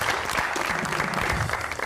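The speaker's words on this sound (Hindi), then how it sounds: "तो बहुत सारी तालियों में वेलकम करते हैं जी खोजी साहब।" Studio audience on a talk show welcomes a guest with a short burst of full, close applause, many hands clapping steadily with faint crowd murmur underneath.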